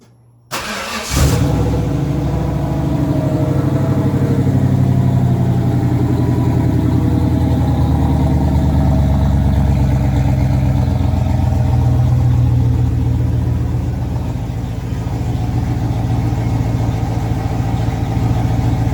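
A vehicle engine fitted with a freshly rebuilt Ford 6R80 automatic transmission starts up after a brief quiet moment, then runs steadily at a loud, close idle with a deep, constant rumble for the rest of the time.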